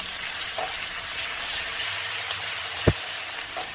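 Ground masala and curry leaves fry in oil for a cabbage bhaji, giving a steady, even hiss throughout with one brief dull knock near the end.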